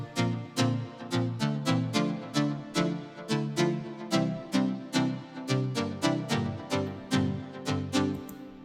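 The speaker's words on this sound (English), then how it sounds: "And the first layer of the lead sounds like this." A synth lead layer for the chorus of an EDM song breakdown plays a steady rhythmic pattern of bright, plucky repeated chords with sharp attacks, loud and alone with no voice over it.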